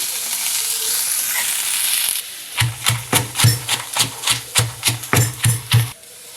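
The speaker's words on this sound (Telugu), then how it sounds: "ఈ బీరకాయ తొక్కలు వేసేసుకుందాం వీటిని కూడా ఫ్రై చేసుకుందాం" Ridge gourd peels sizzle and hiss steadily in a pan for about two seconds, then about a dozen evenly spaced, close, heavy pounding thumps follow.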